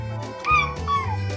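A cat meows twice in quick succession, close and clear, with rising and falling tones as it answers back to its owner, and a low hum underneath.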